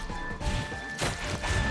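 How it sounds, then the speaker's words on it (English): Explosions from the video game Penny Blood: Hellbound, a steady rumbling bed broken by two loud crashing blasts about a second apart. "That was a lot of explosions."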